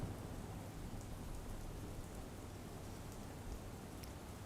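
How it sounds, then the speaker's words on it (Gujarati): Heavy monsoon rain in Gujarat pours in a dense, even roar that runs without a break from start to finish, close and with no one talking. "વરસાદી માહોલ જોવા મળ્યો. ધોધમાર વરસાદથી અનેક નદીઓમાં પૂરની સ્થિતિ જોવા મળી રહી છે."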